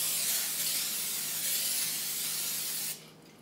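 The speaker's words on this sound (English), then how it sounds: "now let's spray the butter spray" Butter spray hisses from a can onto a very hot griddle in one steady, close, bright spray lasting nearly three seconds, then cuts off to a low background hum.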